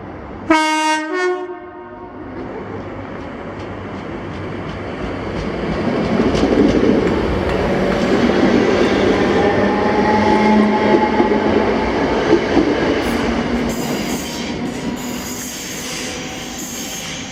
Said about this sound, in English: 1W25, the 1508 ScotRail Service to Women's Bay from Glasgow Central with 320, 322